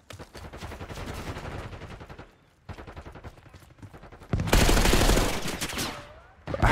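AK rifle fire in Call of Duty Black Ops 6, rapid loud bursts of automatic shots with a brief pause, then a heavier, denser volley near the end.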